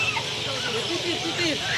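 Large chickens calling at a poultry shop, with short repeated clucks and squawks close by over a steady busy background; people talk faintly throughout.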